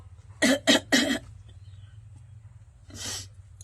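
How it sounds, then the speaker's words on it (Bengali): Three sharp coughs in quick succession, close and loud, from a person coughing while eating, followed by a pause and one more rougher cough against a low hum. "কাশি লেগে গেছে"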